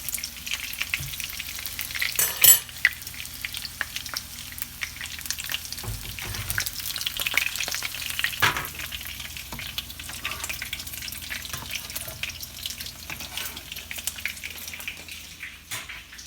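Sicilian casadeddi pastries frying in hot oil, a steady close sizzle and bubble running throughout with occasional stirring clinks, no voices.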